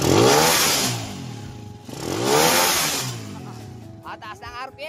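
A 125cc motorcycle converted to 200cc revs hard at high RPM, two long loud engine swells rising and falling close by, followed by a voice speaking over the idling engine.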